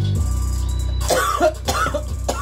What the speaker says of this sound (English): There's some coughing over there.